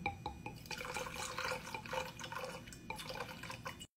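A Blue Lagoon drink made with vodka pours from a dispensing machine into an ordinary glass, a faint steady trickle and splash with small drips, heard alone.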